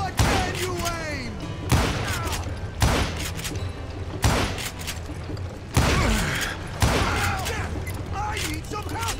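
Gunfire in the Western shooter Call of Juarez: Gunslinger rings out as loud single shots every second or two, each trailing into echoing game sounds, with shouted voices heard between them.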